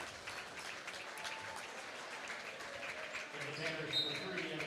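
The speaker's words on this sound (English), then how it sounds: "He gets a round of applause." Faint, distant crowd applause at a men's high school basketball game, steady and even throughout, with some talk mixed in underneath.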